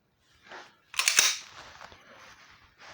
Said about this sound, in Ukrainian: Цілимося, робимо постріл.